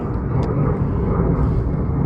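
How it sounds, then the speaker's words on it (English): A fixed-wing airplane drones overhead above a creek in North Carolina, a steady low rumbling engine hum that stays constant and fairly close throughout the short moment. "There comes that blasted plane again."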